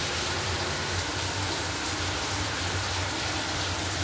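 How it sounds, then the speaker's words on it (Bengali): Heavy rain pours down in a steady, dense broadband wash that is constant and fairly loud throughout, with no voices over it. "জোরে বৃষ্টি হচ্ছে দেখো।"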